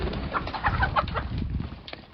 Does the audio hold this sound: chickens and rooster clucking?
yes